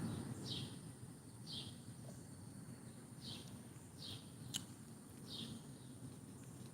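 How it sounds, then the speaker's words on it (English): Birds sing outdoors on a cool day, several short high chirps repeating at a regular pace over a faint, steady background hum, heard at a distance with no talk. "Them birds just singing, singing, singing."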